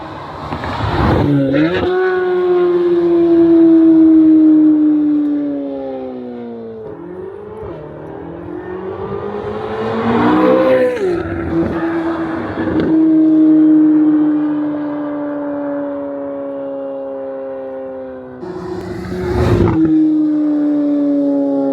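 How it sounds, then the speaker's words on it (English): Lamborghini Huracan V10 and Corvette C8 Z06 with a flat-plane crank V8 rev hard and loud, engine notes rising and falling in long sustained pulls with sharp throttle blips between, close and unbroken. "You heard the V10 Lamborghini Bull. You heard the C8 Z06 with the flat plane crank V8."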